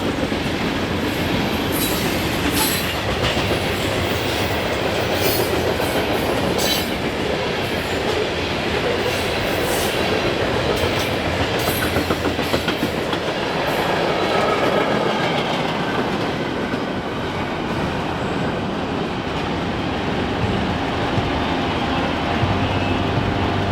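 A long CSX coal train led by two GE Evolution Series locomotives rumbles past steadily, heavy wheels rolling with rhythmic clatter and occasional metallic squeal, loud and continuous throughout.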